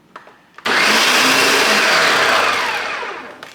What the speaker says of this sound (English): So all right, back to blending.